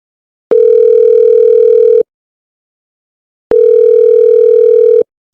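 Two long, steady telephone dial tones, each lasting about one and a half seconds and separated by a short silence, sound loud and clean with no talk over them.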